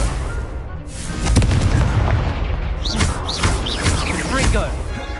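Fiery blasts from the Confringo spell in Hogwarts Legacy boom repeatedly amid combat noise, loud and continuous, with shouted spell names over the explosions.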